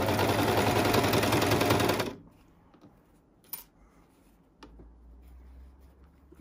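A sewing machine stitches a men's boxer in a steady, rapid mechanical whir for about two seconds, then stops, leaving quiet handling noises.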